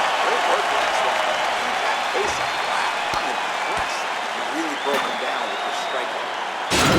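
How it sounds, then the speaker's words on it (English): Applause and cheering from an arena crowd in the UFC 4 fighting game swell after a round ends, a steady wash of clapping and crowd noise with commentary voices talking over it. "the crowd voicing its appreciation after that round"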